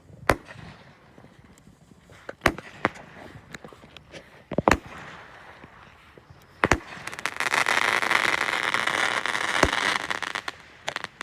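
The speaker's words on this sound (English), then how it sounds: "2020 fireworks show." Family fireworks show in 2020, with sharp bangs of exploding fireworks at irregular intervals and a sustained loud crackling burst near the end, heard from close by outdoors.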